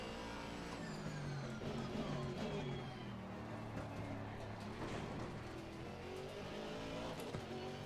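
Race car engine from Assetto Corsa Competizione at the Spa circuit, steady and continuous, rising and falling through gear changes with faint tire noise, heard alone at low level.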